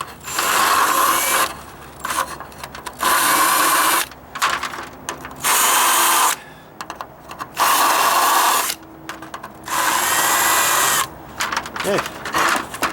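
A DeWalt drill bores holes in a wooden deck in five loud whirring bursts of about a second each, separated by short pauses filled with clicks and handling noise.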